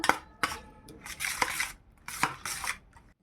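A fork or whisk beats egg with salt in a bowl for egg paratha, giving close, irregular bursts of clinking and scraping against the bowl.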